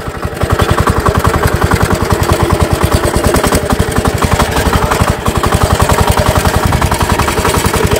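A motor tractor built from a walk-behind tractor runs outdoors on a farm. Its small engine gives a loud, steady, rapid chugging pulse for the whole stretch with no speech over it.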